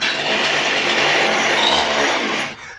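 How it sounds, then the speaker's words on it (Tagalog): A CG411 two-stroke heavy-duty grass cutter engine runs loud and close with a harsh, buzzing roar that holds steady and then cuts off abruptly at the end. "grass cutter natin na CG411 heavy duty na grass cutter na 2-stroke"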